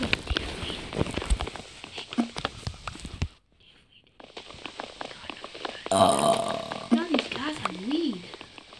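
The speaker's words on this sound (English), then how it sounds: "I've had a lot of Coke today, and I'm really hyper. And I have to burp a lot." Someone burps after drinking a lot of Coke: a loud, drawn-out belch follows talking and a short pause, close to the mic.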